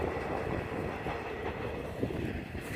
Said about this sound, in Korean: 기차도 지나갑니다, 여기는